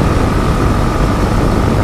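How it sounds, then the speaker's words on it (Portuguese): Loud, steady wind roar buffeting a helmet while riding a motorcycle at night on a highway, a dense low rumble that stays constant without a break. "O barulho de vento incomoda bastante"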